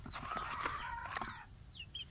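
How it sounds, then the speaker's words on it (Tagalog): Backyard chickens clucking and a rooster calling close by, a steady run of squawks and clucks filling the whole short stretch with no talk, at a home in the Philippines. "Ito po yung aking mga alagang manok."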